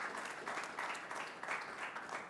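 Audience applause at an expo presentation, a sustained burst of clapping from a crowd in a hall, fairly steady with slight swells, heard alone without speech.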